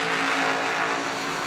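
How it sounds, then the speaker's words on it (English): Drag race cars accelerating hard at a motorsports event, a loud, steady broadband engine roar with a sustained tone that holds throughout, close and continuous with no talk over it. "Oh, man, got a drag race"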